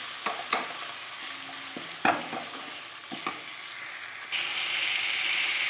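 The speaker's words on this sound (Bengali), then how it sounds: "টমেটো কুচি দিয়ে ভালোভাবে কষিয়ে নেব" Chopped tomato with spices frying in a pan for potato curry, stirred in several distinct scrapes over a steady sizzle that swells louder and hissier toward the end.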